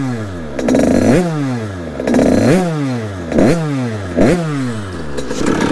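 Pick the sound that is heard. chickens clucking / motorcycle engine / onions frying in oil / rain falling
motorcycle engine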